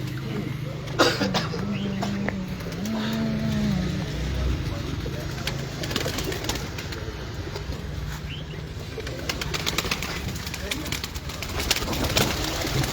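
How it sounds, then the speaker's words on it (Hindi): Pigeons coo softly in a loft of champion Lahore birds, with low murmuring calls rising now and then over steady background noise, occasional coughs, and people talking nearby. "इनके कबूतर तो वैसे ही बेमिसाल कबूतर हैं"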